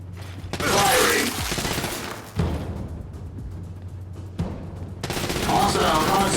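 Bursts of automatic weapon fire in the Gears of War 5 video game, with loud sustained volleys at the start and end and scattered mechanical clatter and voices between them.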